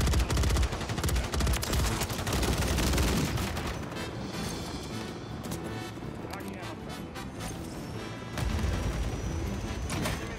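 Rapid bursts of RAM 9 gunfire in the video game Modern Warfare 3, loud and dense, with crackling shots and impacts running through most of the stretch under a player's voice.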